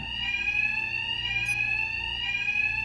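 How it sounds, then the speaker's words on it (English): A loud, steady electronic alarm blares continuously in Batman: Arkham Knight, a sustained high tone with harmonics that holds without pause and has no talk over it. "these thugs can't hear a thing over the alarms"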